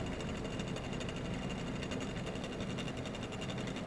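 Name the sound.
vintage Clay-Adams centrifuge motor spinning down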